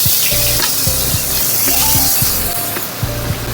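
Chopped onion sizzles loudly in hot oil with bay leaf and cinnamon, a close, dense crackle broken by repeated scraping stirs and occasional light clinks of a utensil against the pan.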